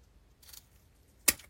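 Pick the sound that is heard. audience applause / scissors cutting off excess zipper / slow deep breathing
scissors cutting off excess zipper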